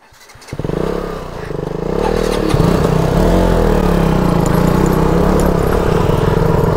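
A motorcycle engine starts up close and loud, then settles into a strong, rough, steady run with clattering mechanical noise.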